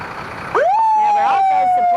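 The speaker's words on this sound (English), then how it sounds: "another pump truck that we have" Fire department pump truck passing during a town parade at Rineyville Days, its siren whooping up and then holding a steady loud wail close by, with a voice heard underneath at the start.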